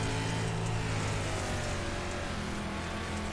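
A dirt limited late model race car engine roars at full throttle on a dirt oval in iRacing, a dense, constant, loud drone lasting throughout, heard alone without voices.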